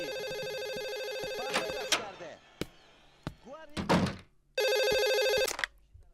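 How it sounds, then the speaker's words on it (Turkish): An old-style telephone bell rings in loud bursts, stopping as thumps and a voice break in, then starting again, near and harsh. "Baksana telefona."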